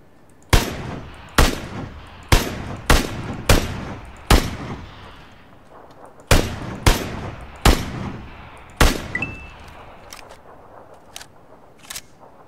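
Gunfire in PlayerUnknown's Battlegrounds rings out as a series of sharp, loud single shots with short echoing tails, irregularly spaced and some in quick pairs, ending in fainter distant pops, with no talking.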